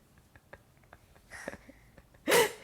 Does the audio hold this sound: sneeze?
yes